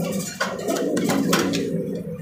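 Large pigeons coo in low, throaty rolling calls, close and fairly loud, with no talk over them.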